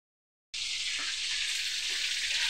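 Lumpiang dynamite, green chilies wrapped in spring roll wrappers, hit hot oil after a brief silence and fry with a loud, steady, hissing sizzle that continues unbroken, close by and without voices.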